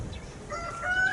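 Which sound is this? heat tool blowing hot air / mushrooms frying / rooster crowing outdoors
rooster crowing outdoors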